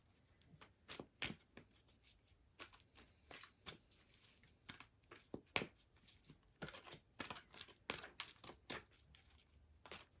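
A tarot deck being shuffled by hand, the cards snapping and riffling in a string of quick, close, moderately loud bursts with short pauses between them. Nobody speaks.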